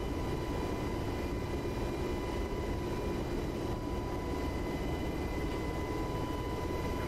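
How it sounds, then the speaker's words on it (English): A UH-60 helicopter in a flight simulator game, a continuous dense rotor and turbine roar with a steady whine, even and loud throughout without voices. "Gonna break my chopper, I think."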